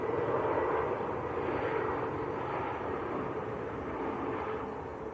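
An EasyJet airliner on short final approach at Manchester Airport, arriving from Hamburg, gives a steady broadband engine roar that holds fairly level throughout and fades slightly toward the end, with no talk over it.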